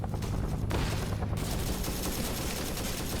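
Dense gunfire and explosive blasts from a Vietnam War video game during a mortar attack, loud and continuous with overlapping shots filling the whole stretch and no pauses.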